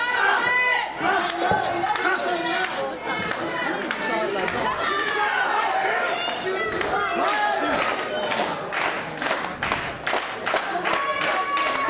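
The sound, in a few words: wrestling crowd cheering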